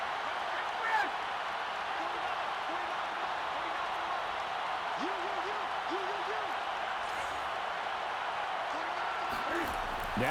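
Stadium crowd in Madden 22 during a Panthers v Chargers game, roaring steadily as a two-point try for the win unfolds; a dense, constant wash of cheering and clapping fills the whole stretch, with faint voices mixed underneath.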